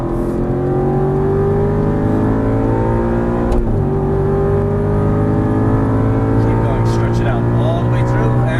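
An Aston Martin V8 Vantage GT race car at full throttle on track gives a loud, close engine roar whose pitch climbs steadily, dips briefly at a shift, then climbs again. A voice speaks over it.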